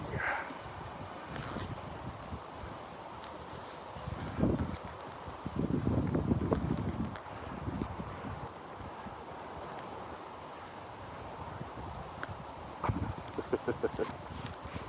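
Gusty wind blows outdoors on a walk, a steady buffeting rush with stronger gusts swelling around the middle and toward the end, with some scuffing and rustling close by.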